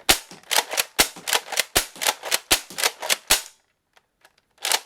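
A Nerf Raider blaster with air restrictors removed slam-fires a rapid string of about a dozen snappy pops in steady rhythm, then falls quiet except for a few faint clicks.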